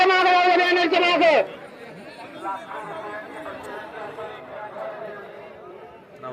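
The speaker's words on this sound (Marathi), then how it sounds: "मैदानात बघतो मित्रांनो भरपूर गर्दी आहे" Crowd chatter at a village bullock-cart race ground, a loud voice calling out briefly over the hubbub at first, then a steady murmur of many people talking.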